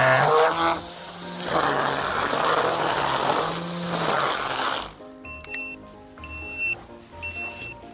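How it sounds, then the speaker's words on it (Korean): A cordless 42V grass trimmer whines at full run, then the motor cuts out and a series of high electronic low-battery warning beeps sounds in short repeated bursts, close and loud. "배터리가 모두 소진되면 이렇게 소리가 나고 배터리에 빨간불이 들어옵니다."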